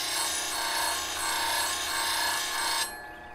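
Steady, close abrasive grinding as a woodturning tool is sharpened, continuous and fairly loud for nearly three seconds before cutting off abruptly, leaving near silence.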